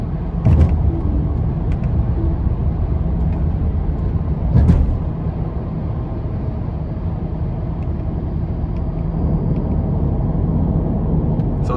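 A 2024 Tesla Cybertruck Foundation Series rolls along on autopilot, giving a steady broadband road and wind rumble with two short louder bumps, no voices.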